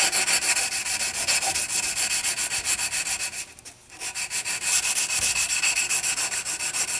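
A wooden knife handle is sanded smooth with rapid, rhythmic back-and-forth rasping strokes that are loud and close, with a brief pause midway before the steady scraping resumes.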